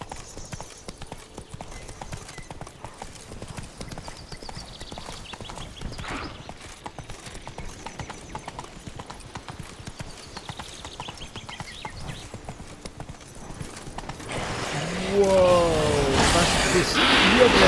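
Horse hooves clip-clop steadily at a walk over ruins in The Witcher 3: Wild Hunt, Blood and Wine, quiet at first under game ambience, then growing louder and busier near the end.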